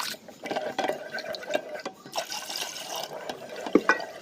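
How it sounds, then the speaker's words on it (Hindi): Water is poured into a pot of batter for chicken pakora curry (karhi), a steady liquid splash and trickle with small clinks, moderately close and fairly quiet, with no talking. "तकरीबन मैंने इसमें 5 से 6 कप पानी के शामिल कर दिए हैं।"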